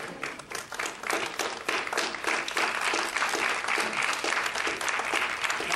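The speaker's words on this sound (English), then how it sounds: "Go ahead and give the Lord a hand clap of praise on your way down." A church congregation claps in steady, dense applause filling the room, the sound loud and sustained throughout with no break.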